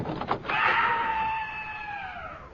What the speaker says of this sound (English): What was that shriek? It's nothing. It came from the furnace.